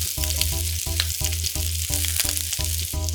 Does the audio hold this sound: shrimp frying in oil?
yes